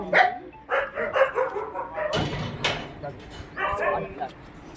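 Several dogs at an animal shelter bark and yip in short bursts, fairly close, mixed with people talking over and between the barks.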